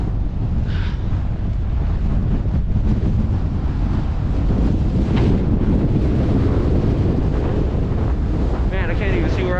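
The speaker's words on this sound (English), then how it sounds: "look at that wind" Strong wind gusts roar steadily across the microphone while snowboarding at Snowbasin Resort, a loud continuous buffeting rush that swells and drops, with a few faint voices underneath.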